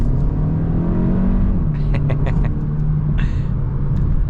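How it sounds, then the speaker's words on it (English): A 2024 Hyundai Elantra N Line's exhaust drones loudly and steadily as the car accelerates, a deep continuous rumble with a few faint ticks and light rattles above it. "The exhaust setup is just amazing on this."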